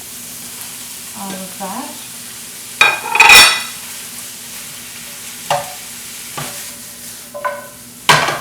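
Flat rice noodles stir-fried in a hot wok for Thai pad see ew: a steady close sizzle broken by several loud clattering bursts of tossing and scraping, with a brief spoken remark early on.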